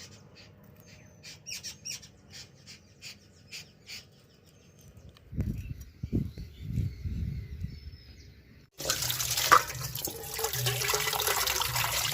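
Tap water gushes loudly and steadily over freshly caught river fish being washed after cutting, a strong continuous rush arriving abruptly after quieter splashing and handling sounds.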